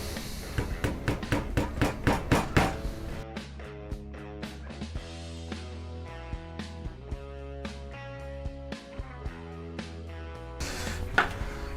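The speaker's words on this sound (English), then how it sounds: "Raise the hammer." Hammer blows on a handmade string instrument as a string is secured near the bridge, a quick run of loud, evenly spaced strikes followed by sparser, lighter taps with ringing tones between them.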